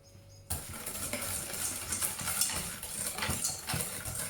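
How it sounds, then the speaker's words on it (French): Cookie dough with an added egg is whisked in a bowl, a close, busy clatter and scrape of the whisk against the bowl that starts abruptly and continues steadily without talk. "une fois que votre mélange a blanchi, on va rajouter l'œuf. Et encore battre du coup."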